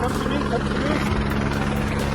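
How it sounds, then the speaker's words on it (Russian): Helicopter arriving to evacuate people cut off by a fire, heard close and loud as a steady, pulsing rotor drone that continues throughout. "Вертушка нас эвакуирует."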